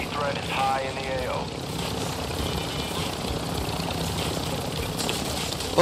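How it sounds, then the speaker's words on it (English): A helicopter in a Call of Duty match gives off a steady, droning engine and rotor rumble that holds at an even loudness through the whole stretch, with faint game noise over it. "he's taking the chopper! Get to the chopper!"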